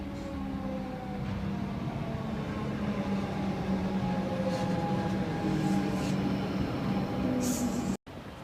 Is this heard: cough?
no